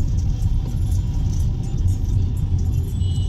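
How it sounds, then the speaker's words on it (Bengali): Jammed road traffic on a Kolkata street near the EM Bypass, a steady low rumble of idling and creeping cars and engines, close and continuous, with no talk. "এখন রাস্তায় ভালোই জ্যাম আছে"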